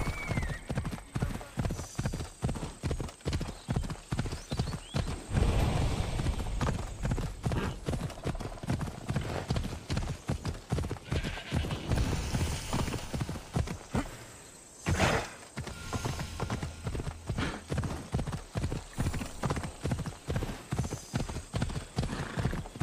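Horse galloping in the Assassin's Creed Origins video game, a steady rapid clip-clop of hooves running loud and continuous throughout, with a brief dip midway and occasional whinnies.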